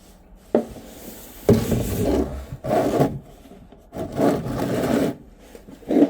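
Pencil grinder rounding off a worn part on a Toyota Hilux with 4Y engine and solid front axle, giving several separate rasping, grinding bursts of a couple of seconds each, close and fairly loud, with short quiet gaps between them.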